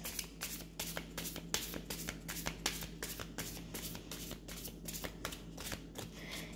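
A deck of cards being shuffled, quick repeated riffling bursts in a rapid rhythm, close and fairly quiet, with no talk.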